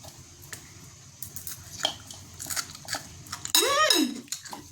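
Spoons and forks clink lightly and irregularly against dishes during a meal of som tam, followed by a short vocal sound near the end.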